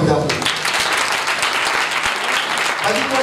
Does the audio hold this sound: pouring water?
no